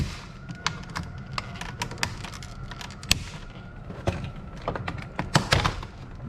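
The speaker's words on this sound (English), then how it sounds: "Kind of get your pry bar behind it if you have to, so you're not pulling too hard on the trim itself. See if you can get it pried out." Pry bar levering the center air vent trim out of a BMW E90 dashboard, giving scattered plastic clicks, taps and a few sharper snaps over a low background hum.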